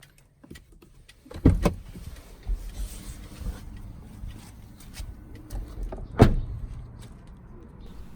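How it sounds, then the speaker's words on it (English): A Lexus RX 300 is locked and unlocked with a newly programmed key: two sharp clunks of the central locking a few seconds apart over a quiet background with faint handling noises. "Close open the car with the new key."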